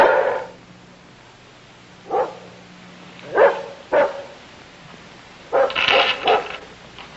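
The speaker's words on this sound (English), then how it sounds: "All I can hear is that darn dog barking." A dog barks in a series of sharp, separate barks, some single and some in quick pairs, at moderate distance against a quiet nighttime background with no talk.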